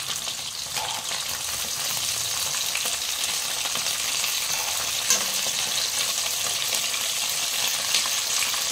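Hilsa fish paturi wrapped in bottle gourd leaves fries in a pan, giving a steady, even sizzle with faint crackles and an occasional soft clink, close and continuous.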